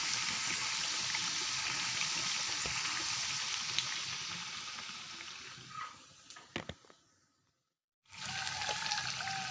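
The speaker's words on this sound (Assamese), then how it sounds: "এই মই বেঙেনাখিনি ফ্ৰাই কৰিছোঁ" Eggplant pieces frying in a pan with oil, a steady close sizzle that fades out briefly before resuming, with a few scraping and stirring clicks.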